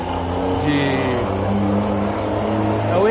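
Water tanker trucks drive past with a loud, continuous engine drone and shifting gear tones, close by throughout, and speech can be heard faintly alongside.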